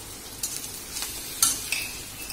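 Turmeric and spices sautéing in a pan, a faint sizzle with a handful of brief scraping stirs spaced across a short stretch, no voices.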